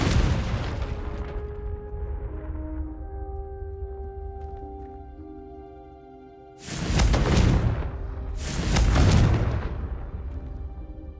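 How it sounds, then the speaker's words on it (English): A Confringo fire spell cast in Hogwarts Legacy bursts into two loud explosive blasts a couple of seconds apart, after a fading earlier boom and a quiet stretch of ringing tonal game ambience. "a Confringo cast travels a bit farther than that of a spell like Incendio"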